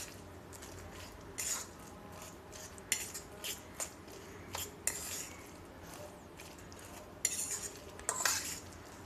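A spoon scrapes and clinks against a bowl while grated potato pancake mixture is stirred, producing soft squishy churning broken by a few sharper taps, close and quiet.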